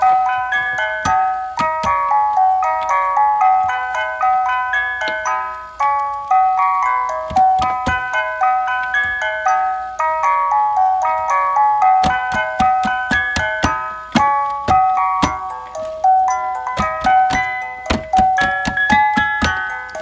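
A Fisher-Price music box record player plinks out Camptown Races in bright, tinkly metal-comb notes, with a steady run of small mechanical clicks beneath the melody, close and continuous with no talking.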